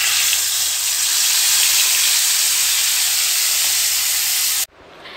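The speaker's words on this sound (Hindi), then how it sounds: "अब मैं इसमें टोमेटो प्यूरी डाल रही हूँ।" Tomato puree sizzling loudly in hot oil with cumin in a kadai, a steady close hiss and crackle that cuts off abruptly near the end.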